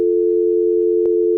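A steady, loud dial tone hums from an old telephone receiver, unbroken apart from one faint click near the end.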